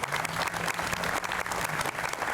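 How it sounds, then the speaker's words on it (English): Audience applause at an outdoor Veterans Day ceremony for a military service dog monument, a steady dense clapping from a crowd that holds evenly through the whole stretch with no voices over it. "So let's give a round of applause to Laurel Grove"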